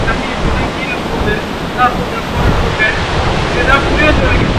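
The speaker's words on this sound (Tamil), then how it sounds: "இதிலே பாருங்க அருவியில் கொஞ்சம் தண்ணி கீழே போகுது." Rushing water at Aagayagangai Falls, a steady broadband wash that holds constant throughout with faint voices underneath.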